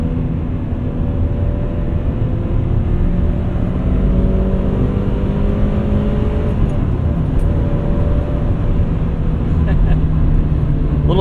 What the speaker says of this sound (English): Third gear's tall, you wind it out.